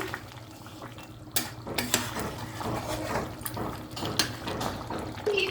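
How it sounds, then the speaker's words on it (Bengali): Ground garam masala paste being stirred into a bubbling curry in a pot, with a metal spoon scraping and clanking against the pot in irregular knocks over a steady low simmer, close and moderately loud, with no talk. "এখানে বাটা মশলাটা দিয়ে দিলাম, তা দিয়ে আমি নেড়ে দিচ্ছি"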